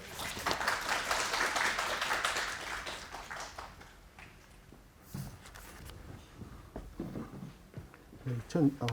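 Applause at a Korean hospital quality-improvement conference, a fairly faint spell of clapping in a hall that fades out after a few seconds, followed by quiet footsteps and small room sounds.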